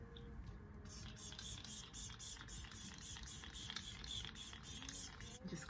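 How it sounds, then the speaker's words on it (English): Milk HydroGrip Set Refresh setting spray is pumped onto a face in a quick series of about fourteen short, evenly spaced hissing bursts, close and fairly soft, with no talking. "I'm using the Milk HydroGrip and Set Refresh Spray"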